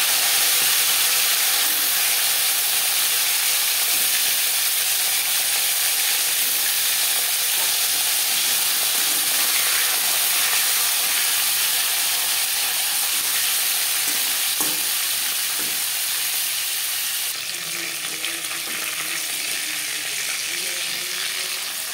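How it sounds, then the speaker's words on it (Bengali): Marinated fish frying in about five spoons of hot refined oil, a steady dense sizzle and crackle running close and loud throughout with a few sharper pops near the end. "5 চামচ রিফাইন্ড অয়েল গরম করে নিয়েছি। এবার দিয়ে দেবো ম্যারিনেট করে রাখা মাছ।"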